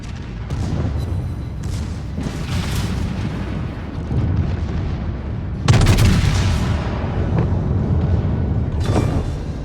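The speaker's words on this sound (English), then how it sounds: "Let's put those back guns in on this guy. Look at those shots go wild." Warship main guns fire in World of Warships, heavy booming salvos in several loud bursts over a continuous rumbling sea-battle background, with one especially strong blast midway.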